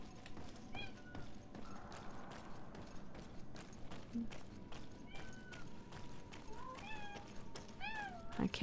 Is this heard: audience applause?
no